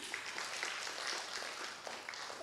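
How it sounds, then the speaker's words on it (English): Audience at a health forum gives a round of applause, a continuous dense patter of many hands clapping at moderate distance, steady and without speech. "a big round of applause to them"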